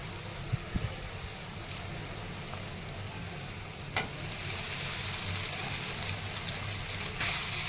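Soaked poha fries with onions in a hot pan, giving a steady close sizzle with stirring scrapes, and the hiss swells louder partway through as more goes in.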